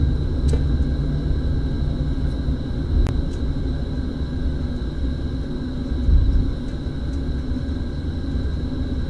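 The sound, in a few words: Boeing 777 engines spooling up in a full cockpit flight simulator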